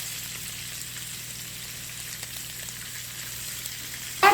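Vegetables stir-frying in oil with minced garlic and scallion for a spicy seafood stew, a steady soft sizzle running throughout with a brief louder clatter at the very end.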